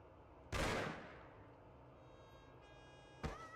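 Two gunshots go off in the Mafia game, a loud sharp crack followed by a ringing decay, then a second quicker shot about three seconds later over low ambient background.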